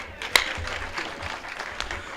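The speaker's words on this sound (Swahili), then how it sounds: "makofi tena kwa Reverend Chelal." An audience at an official visit to a school for the deaf-blind in Baringo County, Kenya, gives a short round of clapping, moderately loud and steady with one sharp clap near the start.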